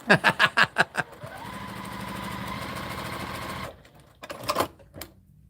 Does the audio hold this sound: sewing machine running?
yes